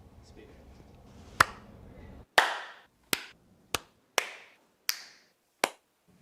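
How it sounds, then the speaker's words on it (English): Loud single hand claps ring out one at a time, seven sharp cracks with short echoing tails, spaced roughly half a second to a second apart after a murmur of low background noise. "like a loud clap."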